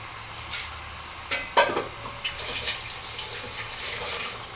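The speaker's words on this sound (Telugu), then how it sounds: "ఇప్పుడు చేప ముక్కలన్నీ ఇందులో వేస్తున్నాను" Fish pieces dropped into frying masala for a tamarind fish curry, a few close clattering knocks and scrapes as they are stirred over a soft continuous sizzle, no voices.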